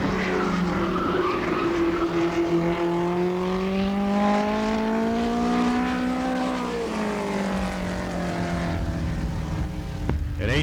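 USAC National Midget race car running a qualifying lap on a Kansas City oval, its high-revving engine howl rising and falling in pitch as it passes, loud and sustained with a harsh buzzing edge and no voices.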